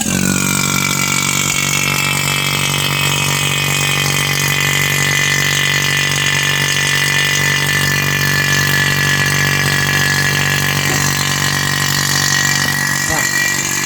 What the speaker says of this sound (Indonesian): Kita menggunakan pompa vakum.